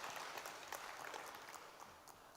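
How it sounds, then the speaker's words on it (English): Faint applause from the audience at an Energy Transformation Summit, a soft, even spread of many hands clapping, heard at a distance throughout. "I think you deserve a round of applause there"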